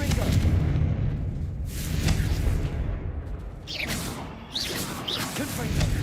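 Confringo spell blasts in the video game Hogwarts Legacy: rumbling, fiery explosions with whooshing bursts and crackles, loud and continuous.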